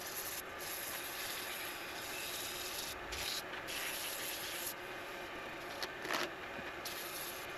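A wooden pointer wand is sanded on a lathe, a continuous close, loud abrasive rushing hiss with slight rhythmic wobble and a few brief scuffs.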